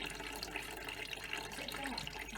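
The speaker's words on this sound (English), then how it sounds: "the water is slowly draining into the washing up bowl" Water from a Hotpoint Aquarius washing machine filter draining into a washing-up bowl, a faint, steady trickling and splashing that continues without pause.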